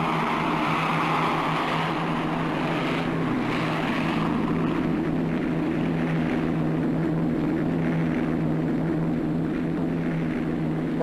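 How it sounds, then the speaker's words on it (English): Hostile bomber aircraft fly over in a Battle of Britain bunker exhibition sound effect at Uxbridge, a steady, droning propeller-engine rumble that holds constant throughout, with no voices. "Those are hostile bombers."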